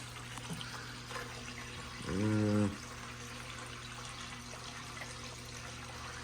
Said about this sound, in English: Well, we just fired up our Miller's table we made.